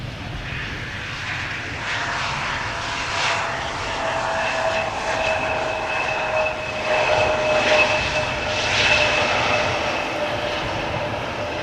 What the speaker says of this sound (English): KLM flight 1626 arriving from Milan